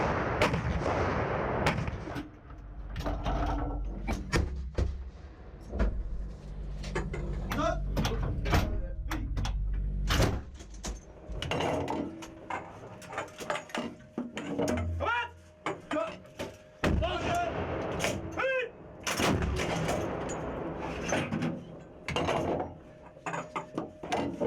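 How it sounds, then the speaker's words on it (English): Norwegian M109 self-propelled howitzers fire during a NATO Spearhead Force artillery demonstration, heavy booming blasts and sharp cracks spread through the stretch along with clanking mechanical noises, while a voice talks over much of it. "The Norwegian battery employs its M109 howitzer."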